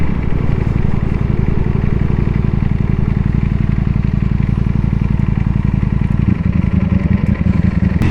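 Superbike engine at steady high-speed cruising pitch while riding, a loud continuous drone with a rapid pulsing rhythm that holds throughout and shifts slightly near the end.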